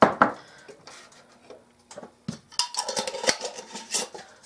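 Metal pot lids set back onto cooking pots on a stovetop, a few scattered clanks and clinks at first, then a busier cluster of clattering knocks, close and moderately loud, no talking.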